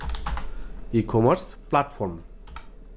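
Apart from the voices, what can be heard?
typing a search on a computer keyboard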